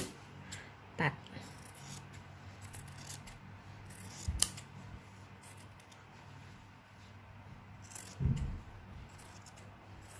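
Scissors make a few small snips in sewn fabric while a bag is being made, three brief crisp cuts spread out over quiet, close and light.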